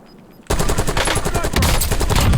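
Quiet at first, then sudden loud rapid gunfire erupts in dense automatic bursts that continue to the end, in Call of Duty: Warzone.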